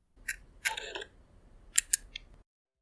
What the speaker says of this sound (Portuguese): Agora esse é o som de uma Fuji X100S fazendo foco e disparando.